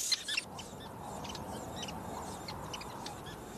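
Sociable weaver birds at their large communal nest in a camel thorn tree in the Kgalagadi, giving a faint busy chatter of short chirps and twitters over soft background hiss.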